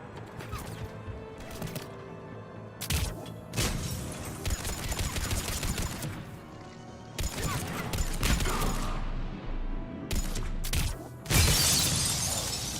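Crashing, shattering blasts of a large explosion in the Mass Effect 3 video game, several loud bursts and a dense roar over a sustained game soundtrack.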